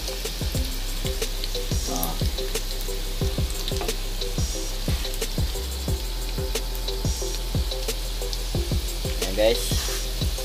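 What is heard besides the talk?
garlic and onion frying in oil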